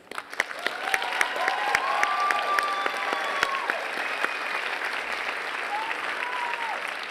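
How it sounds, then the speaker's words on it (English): Audience applause for graduating students at a 2018 undergraduate convocation, a sustained wash of clapping from a large crowd that swells quickly and holds steady, with faint voices drifting underneath. "Please give these students a round of applause."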